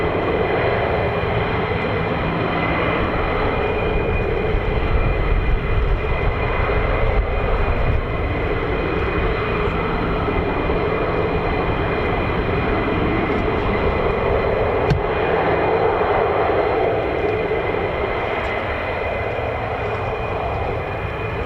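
F-15 and F-35 fighter jets at RAF Lakenheath, home of the US Air Force 48th Fighter Wing, produce a loud, steady jet engine roar. It fills the whole stretch with no pause and no talk.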